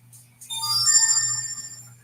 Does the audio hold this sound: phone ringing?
yes